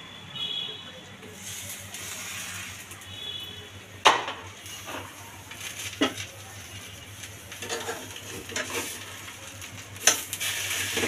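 Shrimp wrapped in kachu (taro) leaves cook in a pan over a flame, giving a soft, steady sizzle broken by a few sharp clicks and clatters of a utensil against the pan.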